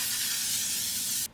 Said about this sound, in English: I'm going to go ahead and set the face with this L'Oreal Infallible Setting Mist